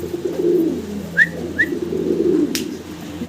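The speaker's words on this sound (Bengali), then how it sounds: "হাই ফ্লার কবুতর দেখাচ্ছি এখন আপনাদেরকে" High-flyer pigeons coo softly and steadily in the background, with a couple of brief chirps and a sharp click rising above the low murmur.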